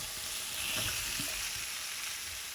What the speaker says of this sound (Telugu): ఇలా 1 నిమిషం వేగాక దీనిలో పన్నీర్ ముక్కలు కూడా వేసి వేయించుకుందాం.